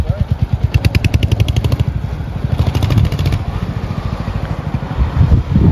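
A new motorcycle engine idles nearby, its loud, rapid, even exhaust pulses running steadily throughout with a slight rise near the end, and no voices.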